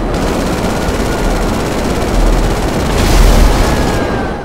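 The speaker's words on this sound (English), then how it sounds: "Explosions for days!" Loud gunfire and explosions from the video game GTA 5 Online roar in a dense, continuous barrage, swelling louder toward the end with no pauses or speech.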